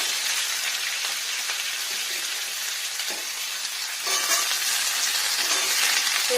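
Green banana, eggplant and potato pieces frying in oil in a pan, giving a steady close sizzle and crackle that swells briefly partway through, with no talking.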